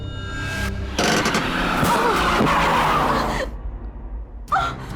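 A car braking suddenly, its tires skidding loudly with a rough, sustained squeal and road rumble for a few seconds, followed by a short quieter tail in a dramatic scene.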